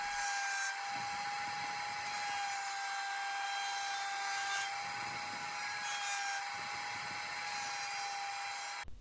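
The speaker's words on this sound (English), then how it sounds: "And this is us just routing the board." A router shapes a wooden fingerboard deck with a constant high-pitched motor whine, steady and close throughout, with no voices.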